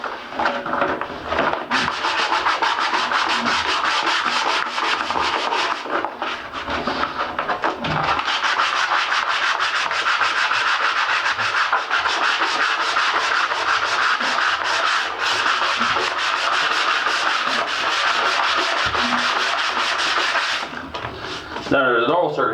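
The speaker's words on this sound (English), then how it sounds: "I recommend using an orbital sander for this myself" Steady sanding of a bathtub surface, continuous rubbing and scraping that runs almost without pause and stays loud and close throughout, with a brief break near the start and a scrape at the end.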